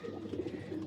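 Breeder pigeons coo softly in soft repeated throaty pulses, close by and with no talk.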